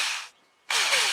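A drill enlarging holes during HVAC vent repair on a Toyota Previa (TCR10) whirs loudly, stops briefly, then spins up again, a bright high-pitched whine close by.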